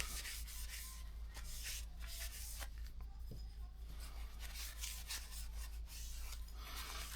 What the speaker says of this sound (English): Now we're going to wipe off all the metal.